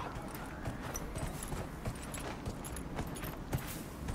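Horse hooves clip-clop steadily at a quick trot in Dragon Age: Inquisition, a regular stream of light thuds over a soft, constant wash of game ambience, with no one speaking.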